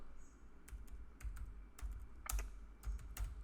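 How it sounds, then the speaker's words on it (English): Someone types code on a computer keyboard, with quick irregular key clicks and a few louder strokes, close and clear against a low steady hum. "let me type in import"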